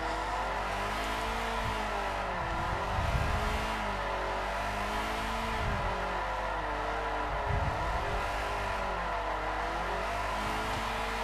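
Tyre screech and engine revving from a car doing smooth donuts in the racing game Forza Motorsport 4, a continuous sweeping whine that rises and falls in repeated arcs with a steady low engine drone, loud and close throughout.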